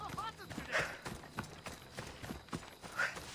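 Quick rhythmic hoofbeats of a horse on the move in Assassin's Creed Odyssey, steady clip-clop under background game sounds, with someone talking over it.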